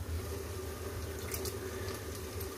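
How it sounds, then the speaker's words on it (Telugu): Water poured into a cooking pot for ragi porridge, heard as a continuous, even splashing and trickling stream that holds steady throughout. "వాటర్ పెట్టుకోవాలండి."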